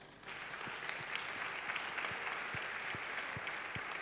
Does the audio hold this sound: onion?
no